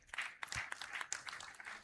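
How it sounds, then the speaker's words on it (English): Scattered audience clapping at a national conference on democracy, fairly faint and uneven, with individual claps standing out in a loose rhythm over a short burst. "Please, another round of applause."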